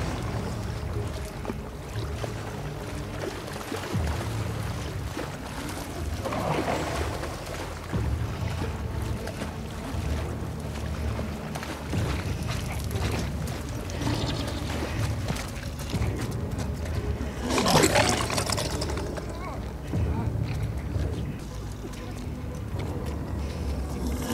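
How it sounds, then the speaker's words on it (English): Footsteps wade and splash through water in the video game The Last of Us Part II, irregular sloshing surges over a low ambient bed, with two louder splash bursts and someone talking intermittently. "you're splashing up too much water. That creates noise."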